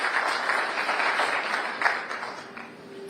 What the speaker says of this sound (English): And a great round of applause, Eric.